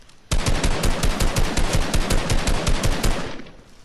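Rapid automatic gunfire in a video game, one loud unbroken burst of evenly spaced shots lasting around three seconds and then stopping abruptly, with no talking over it.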